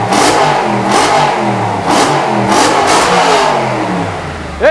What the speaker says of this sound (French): la RS4, elle fait un très très beau bruit